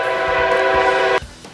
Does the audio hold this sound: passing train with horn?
yes